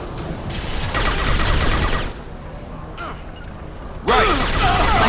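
Gunfire in the video game Mass Effect 2, a loud sustained burst of rapid shots and mechanical clatter that dips briefly, then surges again with a metallic whine near the end.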